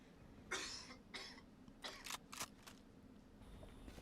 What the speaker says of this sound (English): who's coughing another mic?